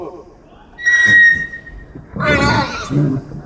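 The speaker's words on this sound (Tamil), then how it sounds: "ஜோத்பூர் குதிரை" Marwari horse from Jodhpur, kept at a bird and animal farm park, whinnies with a high tonal squeal followed by a rougher, breathy neigh, fairly loud and close.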